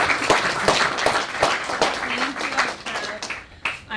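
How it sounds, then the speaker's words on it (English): Audience at a McGill student society event applauding a guest speaker, a round of clapping from a crowd with talking mixed in, fading toward the end. "So if we can give a big round of applause for"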